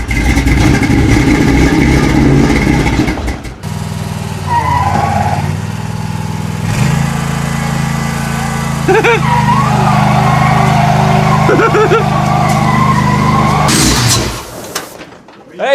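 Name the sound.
truck engine running as truck rolls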